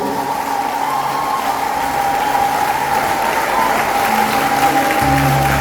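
A church congregation claps during a worship service, a dense, loud and sustained wall of applause filling the room.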